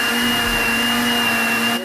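A blender mixes strawberry ice cream ingredients with a loud, steady whirring motor hum that holds constant throughout and cuts off abruptly at the end, alone without speech.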